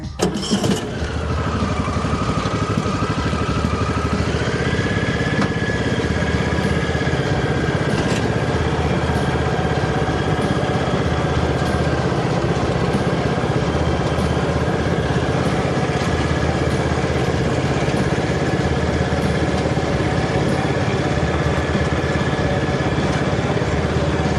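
A small lawn tractor engine starts and settles into a steady, buzzing run close by on a farm, continuing without a break.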